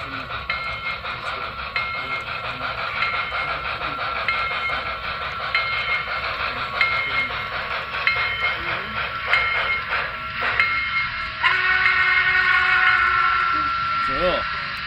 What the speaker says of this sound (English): Now arriving on track one, train number 2192, the Yankee Dabbler Creeper.